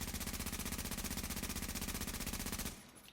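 Rapid automatic fire from an AUG A3 rifle in the video game The Division, a steady loud burst of evenly spaced shots lasting nearly three seconds before cutting off abruptly.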